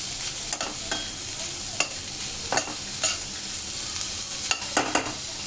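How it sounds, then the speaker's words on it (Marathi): Snake gourd (padwal) vegetable sautéing in a little oil for a traditional bhaji, with soft continuous sizzling broken by several sharp stirring scrapes and clinks of a spoon against the pan, close and steady with no talk. "मी थोडं जरा भाजून घेणार आहे भाजीची चव पण छान होते भाजल्यामुळे थोडंसं तेल घालायचं जास्त नाही"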